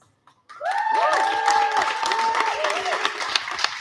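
Audience clapping at an evening economics event rises suddenly after a brief quiet and continues steadily, with a voice talking over the applause.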